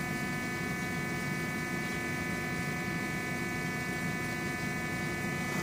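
A preset indexer motor running in reverse gives a faint, steady electric hum that stays even throughout, with no voices.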